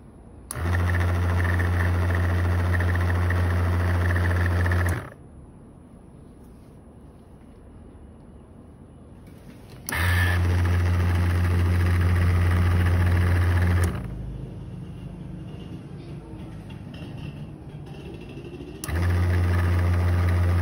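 Motor of an automatic vegetable cutting machine with a sensor-triggered stop, running loud and steady with a deep hum in three bursts of several seconds each, cutting off abruptly into quiet room noise between runs.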